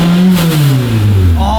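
A car with an aftermarket exhaust revs loudly up close, its deep throaty roar sliding down in pitch as the revs fall, filling the moment with raw engine noise.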